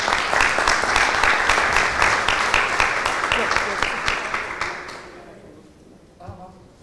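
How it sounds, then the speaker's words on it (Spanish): Applause breaks out for a speaker at a labor-law panel in Punta Cana, a dense patter of clapping that holds steady, then thins and fades over the last couple of seconds, with faint voices underneath. "Un fuerte aplauso para el doctor Murgas."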